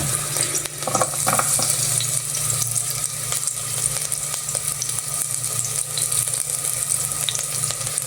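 Ginger and garlic dropped into hot, bubbling cooking oil in a pan, giving a steady, close sizzle and crackle with faint clinks and stirring, without any talk.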